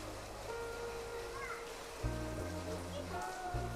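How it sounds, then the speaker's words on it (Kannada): Heavy rain pours steadily throughout, a broad wash of drops on surfaces during the Diwali festival, with a low engine-like hum and a voice speaking faintly underneath. "ನೋಡಿ ಸ್ನೇಹಿತರೆ ಯಾವ ಥರ ಮಳೆ ಬರ್ತಿದೆ"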